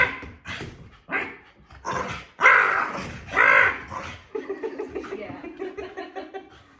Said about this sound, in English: he'll get to barking and running back and forth